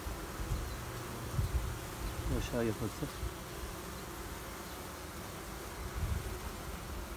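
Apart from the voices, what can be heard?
honeybees buzzing at hives during queen bee rearing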